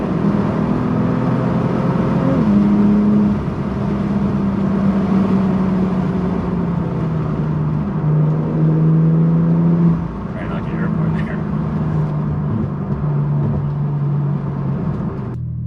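Engine of a 2017 Porsche 911 Carrera S with turbo boost, droning steadily inside the cabin while driving, its pitch stepping through gear changes and easing lower, with a person talking over it.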